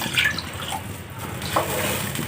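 Water being poured into a cooking pot for rice with peas and potatoes, a steady close splashing and trickling stream with no talk.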